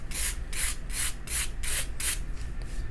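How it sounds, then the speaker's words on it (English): A compressed charcoal stick being rubbed on sandpaper to sharpen a point, six rhythmic close-up scraping strokes, each a bright hiss, then a couple of fainter strokes at the end. "I could use the sandpaper and make a little point with it if I wanted to"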